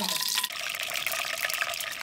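Water dropped into hot cooking oil in a pan sizzles and hisses steadily for a couple of seconds, a close, bright, continuous crackling without speech.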